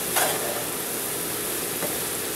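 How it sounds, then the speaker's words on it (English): Crack slaw with ginger is stirred in a hot pan, a steady sizzle broken by a couple of clattering scrapes from the utensil. "Let me just mix this up a little bit."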